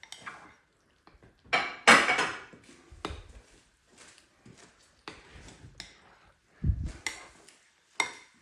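A bowl and spoon set down in a kitchen sink during home cooking, giving a handful of sharp ceramic and metal clinks and clatters, loudest near the start and again later, close by with quiet gaps between.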